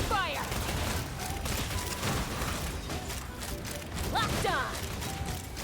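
Sustained gunfire from a video game character's attack, a dense crackling fusillade with mechanical whirs and clanks throughout, mixed with in-game voice lines and effects.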